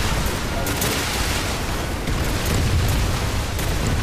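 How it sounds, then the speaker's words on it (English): Dense, continuous barrage of video game missiles, orbital strikes, booms, blasts and rapid gunfire, loud and chaotic with no pause, filling the whole stretch. "Missiles going off, orbital strikes going off"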